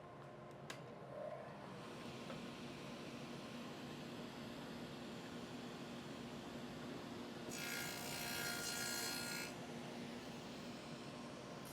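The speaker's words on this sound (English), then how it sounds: "You always want to do a test cut first to see the depth of cut you're taking." Test saw cut through a piece of scrap wood in a workshop: a steady, close rasping cut runs throughout, swelling into a brighter, harsher burst near the end, with no talking.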